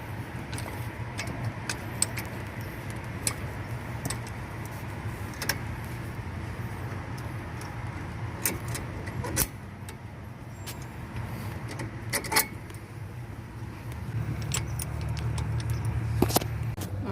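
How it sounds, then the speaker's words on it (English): A caliper tool twisting the brake caliper piston back on a 2007 Chrysler Town & Country, heard as scattered metallic clicks and ratcheting ticks over a steady low hum, fairly quiet, with no talking. "take our brake caliper tool and just put the brake pad into the caliper and then turn it, press it in to twist the caliper piston all the way back"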